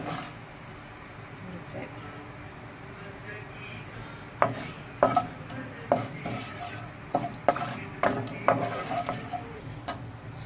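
Black chana frying in a pan and being stirred over a low flame, a soft background sizzle with a run of regular scraping, rattling stirs in the second half, close by and with no talking.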